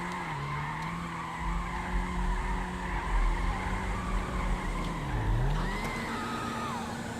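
Tires skid and squeal continuously as a front-wheel-drive Bollokan Prairie car does e-brake donuts in GTA 5, with a steady engine drone underneath and the squeal pitch dipping and rising as the car turns.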